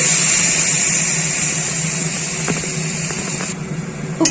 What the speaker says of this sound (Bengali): এই সময় আমি মশলাটা বেটে নিই